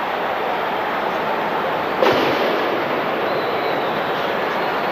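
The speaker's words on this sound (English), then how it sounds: "First firework of the evening," A firework bursts at a football stadium during a 1998 international friendly between Italy and World Stars, a sudden sharp bang rising above the constant, loud roar of the crowd, which carries on after it.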